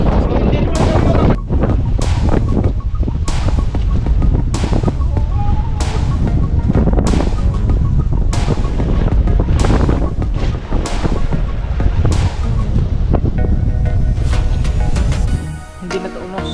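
Strong typhoon wind roars against the microphone near crashing waves, a loud, constant buffeting rush broken by heavy gusts and thumps, with a voice speaking now and then.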